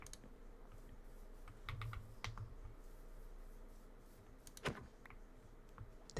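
Computer keyboard typing during a Minecraft session, scattered quiet key clicks and short bursts in an irregular rhythm, faint and close, with one sharper louder clack near the end and no voices.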